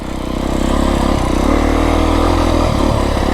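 Beta 350 X-pro dirt bike engine lugging steadily in first gear on a rough mountain trail in southern Arizona, a continuous loud low-pitched putter with slight throttle dips near the end.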